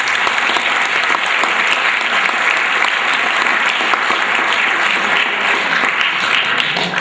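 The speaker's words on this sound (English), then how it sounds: "He deserves a round of applause for that." A school winter sports awards audience applauds steadily for seven seconds, a dense, loud wash of clapping hands with no voices over it.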